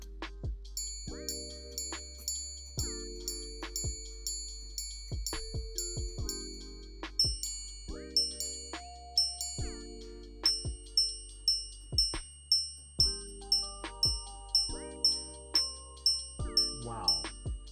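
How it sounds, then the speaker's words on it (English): The hammer of a Chopard watch striking a crystal gong rather than a gold one rings out in bright, clear chimes. The strikes come in repeated melodic sequences, with a faster run of strikes near the end, quiet and close with no voices. "the hammer that normally bangs against gold is banging against crystal"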